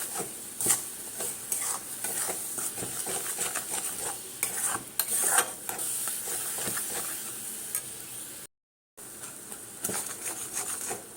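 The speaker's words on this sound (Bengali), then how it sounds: "চিনি দিয়ে সুন্দর করে মাখিয়ে নেব।" Raw mango being mixed with powdered sugar in a bowl, a close, steady wet stirring and squelching with light clinks of a utensil against the bowl, continuous with a brief gap, no talking.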